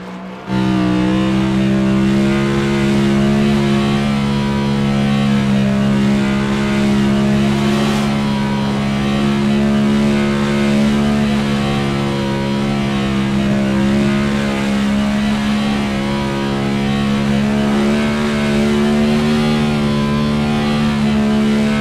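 Race car engines roar continuously in an iRacing oval race at North Wilkesboro, a loud, steady, high-revving drone of several cars that holds without a break and has no talk over it.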